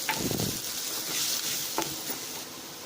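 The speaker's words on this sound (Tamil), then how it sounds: "நான் சின்ன வெங்காயம் போடுறேன்." Small shallots fry in a pan for mushroom coconut soup, giving a soft, steady sizzle with a few light scrapes and clinks of a spoon against the pan, faint and close.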